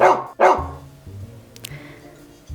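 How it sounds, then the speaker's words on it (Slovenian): A dog gives two sharp barks close by, followed by a softer low whine or growl, with no talking. "In ko sta se muca Liza in pes Bruno prvič srečala, je pes grdo zabrusil"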